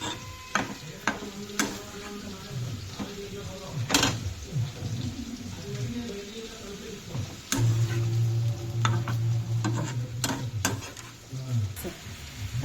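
Tamarind and greens for chukka kura pachadi simmer and soften in a pan, with a continuous close sizzle broken by repeated scraping stirs and sharp clinks of a spoon against the metal.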